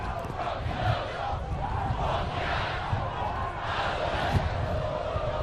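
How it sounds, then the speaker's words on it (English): Big stadium crowd at a Detroit City FC vs Michigan Bucks soccer match in Keyworth Stadium, a continuous roar of chanting and shouting that stays steady and fills the whole stretch, with a commentator talking over it. "Big crowd on hand as always here in Keyworth Stadium."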